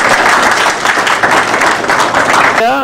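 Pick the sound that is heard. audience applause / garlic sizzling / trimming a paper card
audience applause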